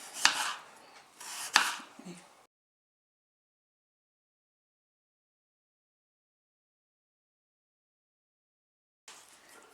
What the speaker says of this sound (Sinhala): හීනියට පෙති කපා ගන්න ඕනේ.